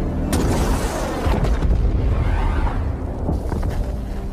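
A military truck blowing up in a film, a loud, deep rumbling boom with a rolling whoosh and debris-like crackle that keeps going without a break.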